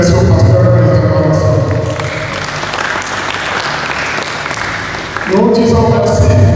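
Assembly audience at a church parish general meeting breaks into loud, sustained applause that fills the room for several seconds, fading slightly before swelling again near the end.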